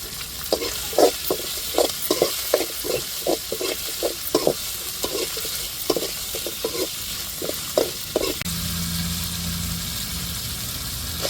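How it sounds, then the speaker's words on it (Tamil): Chili and tomato sauté in a pan, a rhythmic run of spoon scrapes and taps over a steady close sizzle, then stirring stops and a low humming drone takes over beneath the hiss. "நல்லா வதக்கி விட்டுக்கிடுவோம்"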